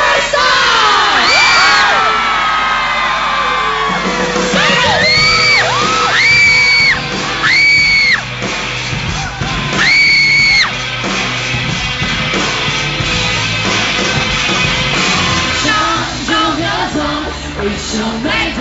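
A concert crowd at a show, held at an event that began in the afternoon, shouts, yells and cheers in loud, sustained bursts. Rising whoops stand out over a dense, continuous roar.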